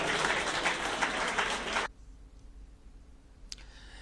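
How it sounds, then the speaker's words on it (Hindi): A loud, dense burst of audience applause at a government event lasts nearly two seconds, then cuts off sharply, leaving a quiet room with one brief sharp click afterward. "उनके लिए एक बार जोरदार तालियों से उनका आभार व्यक्त करें।"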